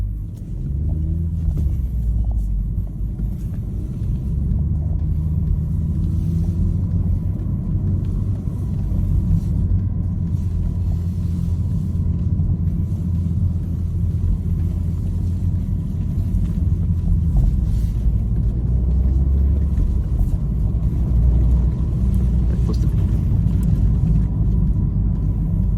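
Toyota Supra with a manual transmission driving a short course at a Supra owners' meetup, heard as a steady, heavy low engine and road rumble that stays fairly constant and loud throughout, with no talk.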